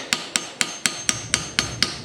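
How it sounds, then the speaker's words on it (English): A regular steel hammer knocks small retaining pins out of motorcycle handlebars on a Harley Softail, Dyna or Sportster, striking eight sharp, evenly spaced metallic blows, close and loud with no talk. "So all I'm going to do is just hammer these little pins out right here."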